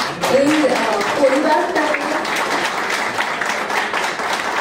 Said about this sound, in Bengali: আপনাদের জন্য একটা জোরে হাততালি